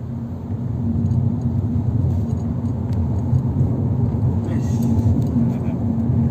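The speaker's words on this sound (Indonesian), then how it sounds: "Silakan Bapak mau akselerasi, injak aja gasnya Pak, tidak perlu ragu." A Nissan Kicks accelerating on a test drive, heard from inside the cabin as a steady low rumble of road and drivetrain noise that holds even throughout, with a voice speaking over it.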